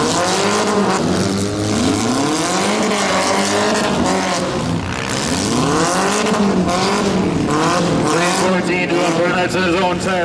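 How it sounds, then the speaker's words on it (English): A stock compact race car does burnouts on a dirt track during a heat race, its engine revving hard and tires squealing in long wavering cries, loud and close, with an announcer talking over the noise. "Doing burnouts in his own tire"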